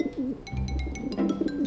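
A pigeon coos indoors, several soft rolling coos close by, with faint higher tones and room noise underneath and no talking.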